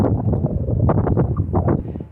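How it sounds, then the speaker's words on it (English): Wind gusting outdoors and buffeting the microphone during a Civic coilover install, a steady low rumble with brief fluttering bursts. "The wind is probably a little bit loud out here"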